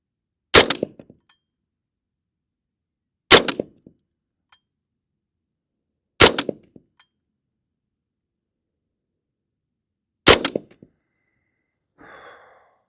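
Crossbow fired from a ground position during practice, four sharp separate shots spaced a few seconds apart, each a loud snapping crack with a brief rattle, followed by a faint rustle at the end.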